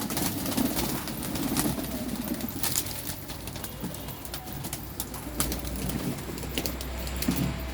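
Pigeons coo softly at a drinking spot on a warm day, low throaty calls repeating faintly under a noisy outdoor background with occasional clicks and rustles.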